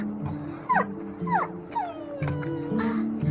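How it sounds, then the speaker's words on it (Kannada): A small puppy whimpers and yelps in several high, rising cries, close by over a low background hum. "ಪುಟಾಣಿ ನಾಯಿ ಮರಿ"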